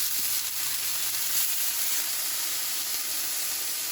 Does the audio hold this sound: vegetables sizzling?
yes